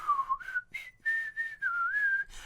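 Clear, melodic whistling in a song from the anime 100 Girlfriends, a phrase of several bright notes that glide and sustain, prominent and close.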